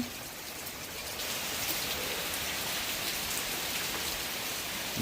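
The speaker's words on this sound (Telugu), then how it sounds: "వర్షం మాత్రం మామూలు పడట్లేదండి బీభత్సంగా పడతా ఉంది" Heavy rain pours down steadily during a thunderstorm, a dense, loud hiss of drops hitting surfaces that swells a little after the first second and keeps going.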